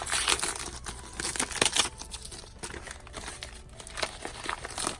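Wrapping paper on a scrapbooking swap package crinkles and rustles as it is handled and unwrapped, in close, uneven bursts of crackling with short pauses and no talking.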